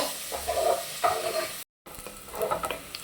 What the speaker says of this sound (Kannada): ಈರುಳ್ಳಿನೂ ಅಷ್ಟೇ ಚೆನ್ನಾಗಿ ಫ್ರೈ ಮಾಡ್ಕೊಬೇಕು